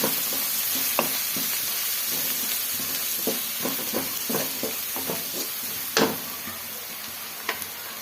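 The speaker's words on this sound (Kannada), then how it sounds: "ಸೇರಿಸ್ಕೊಂಡು ಈ ಥರ ಫ್ರೈ ಮಾಡ್ಕೊಳ್ಳೋಣ." Lamb blood fries in a pan with turmeric and spice powder, giving a steady moderate sizzle broken by scattered scraping clicks of stirring and one louder clatter near the middle.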